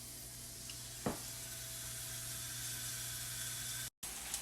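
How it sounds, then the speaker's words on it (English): Steady sizzling hiss of skirt steak frying in a hot cast iron pan, continuous and close, with a brief sharp pop near the start and a momentary dropout near the end. "now we're going to put our skirt steak into the pan"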